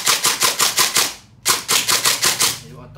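Two rapid automatic bursts from a custom CNC-built gun in a black and gold finish, each a tight string of about eight sharp reports, separated by a brief pause, loud and close with no talk over them.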